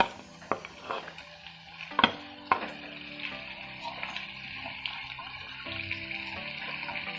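Chicken tipped into a pan of cooked masala with capsicum and onion, then stirred: a few sharp clatters and thumps at the start give way to a continuous close frying sizzle.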